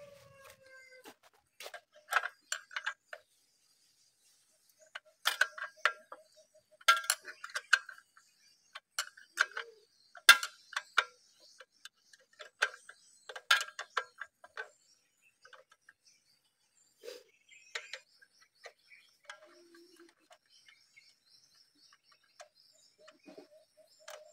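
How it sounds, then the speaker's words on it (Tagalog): A 12mm wrench loosens a bolt on a 2024 Raider 150 Fi motorcycle while an exhaust power pipe is being fitted. It makes close, light metallic ratcheting clicks in irregular bursts separated by quiet gaps. "ang next naman ay tatanggalin natin tong bolt na to. So gagamit lang tayo ng 12mm mga boss."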